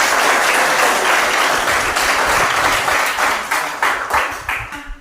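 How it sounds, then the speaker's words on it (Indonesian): Students in a classroom applaud together in a steady, dense burst of clapping that holds strong throughout, then thins into a few scattered claps at the end. "Tepuk tangan semuanya."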